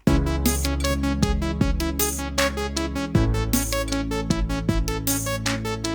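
Rapid, uneven run of random sixteenth notes on a synth, jumping around in pitch at a steady fast pulse, loud and continuous with no voices.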